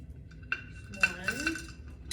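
Cord being pulled through a clay flower pot and a washer while making a wind chime, a few light clinks and soft scrapes of hard pieces knocking together, close and quiet.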